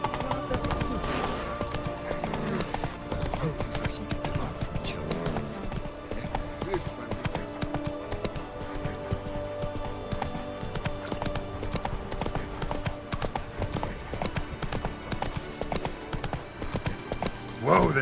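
Horse hooves clip-clop steadily through most of the stretch in The Witcher 3, a continuous mid-loud trot layered over game music and ambience, with a brief whinny-like sound near the end.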